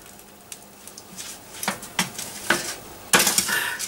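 A lamb joint turned over in a metal roasting tin: scattered clinks and scrapes, then a louder clatter and sizzling rattle near the end, close and alone.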